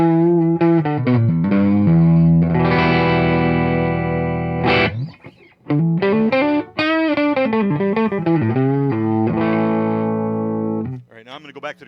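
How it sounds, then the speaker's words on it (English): Electric guitar through a Marshall Origin amp with a reverb pedal, sustained chords and melodic runs ringing out and decaying into a spacious wash, fairly loud and close. "Throw a little reverb on that with a reverb pedal"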